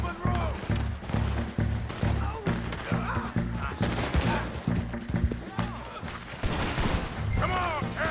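Rapid bursts of gunfire in the Red Dead Redemption 2 video game, repeated loud shots and volleys through the whole stretch, mixed with shouting voices and frantic talk.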